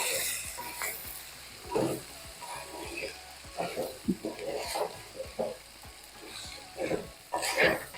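Coorg lemon rice with peanuts is stirred in a pan, a spatula scraping and clinking in irregular bursts over a soft background sizzle, near and moderately loud.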